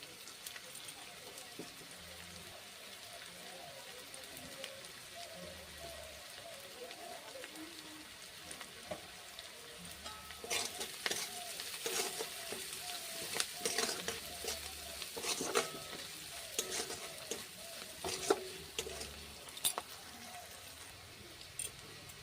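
Onions fry in oil with a pinch of asafoetida, a faint steady sizzle that grows busier halfway through, broken by scattered spatula scrapes and taps, close but quiet under occasional speech.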